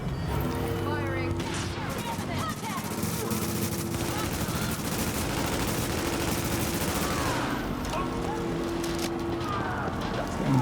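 Gunfire from The Division video game, rapid bursts and steady shooting running throughout over a dense layer of game sound, with a voice talking.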